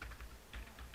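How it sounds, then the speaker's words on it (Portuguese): Keys tapped on a computer keyboard while entering JavaScript code, a few soft, close clicks in quick succession with no talking. "eu vou dar um enter"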